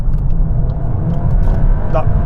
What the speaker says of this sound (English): I'm going to accelerate in 3, 2, 1, go.